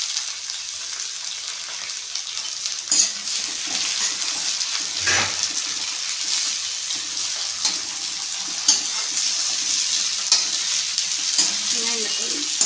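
Chopped tomatoes sizzle steadily in a pan of softened onions for a brinjal and drumstick kara kuzhambu, a continuous close frying hiss with occasional stirring clicks and no talking.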